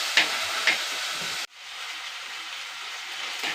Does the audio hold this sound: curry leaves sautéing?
yes